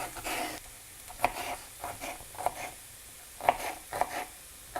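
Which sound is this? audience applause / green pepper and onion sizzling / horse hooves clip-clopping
green pepper and onion sizzling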